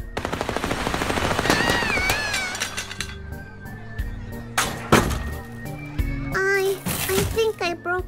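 Rapid bursts of video game gunfire from Little Misfortune, a fast machine-gun rattle at first followed by scattered single shots, heard beneath a child-like game voice and other speech.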